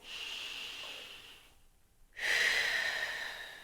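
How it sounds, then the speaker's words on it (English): Two deep breaths taken while rolled forward, a long hissing inhale and then, after a short silence, a stronger, louder exhale, close and alone with no talking. "in this rolled forward position, I'm going to take some deep breaths"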